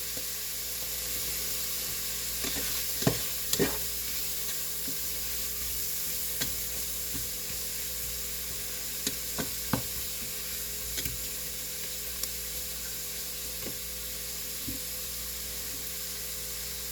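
Burgers sizzle steadily in a frying pan, a continuous loud frying hiss with occasional sharp pops and scraping spatula clicks, no voices.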